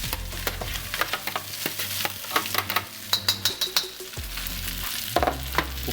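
Rice is stir-fried in a pan over a high flame, sizzling steadily with repeated scraping and tapping of a utensil against the pan, close and clear with no talk.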